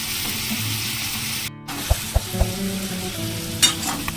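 Chicken coated in spices and coriander sizzles in a pan while a spoon stirs it with a few distinct scrapes and knocks over a steady frying hiss, close up, without speech.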